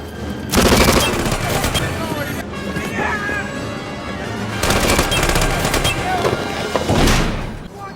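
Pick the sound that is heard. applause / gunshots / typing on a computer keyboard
gunshots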